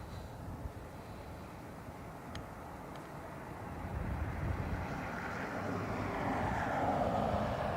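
A Lufthansa airliner from Frankfurt at Dublin Airport rumbles at a distance, a broad low roar that swells gradually louder over several seconds.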